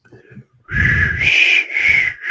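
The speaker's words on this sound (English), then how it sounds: "Give me your best attempt at whistling." A wavering, breathy whistle attempt with two sustained tones separated by a short break, close and fairly loud, following some faint shuffling.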